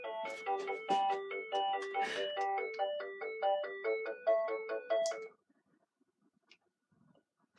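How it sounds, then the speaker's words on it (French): A telephone ringtone plays a bright electronic melody of rapid repeated tones for about five seconds, then stops, leaving near silence with a few faint rustles. "J'imagine que le répondeur va prendre le message."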